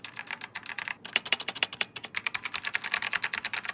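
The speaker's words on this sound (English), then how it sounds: "Listen to the key switches." Rapid clacking of a Dell mechanical keyboard's key switches, a steady burst of typing with a brief pause near the start, close and fairly clear.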